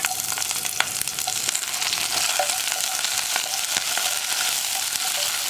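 Onions sizzle and crackle steadily in hot oil for a Kerala-style green gram (cherupayar) curry, with occasional stirring scrapes and clicks of the spoon against the pan, close up and without talk.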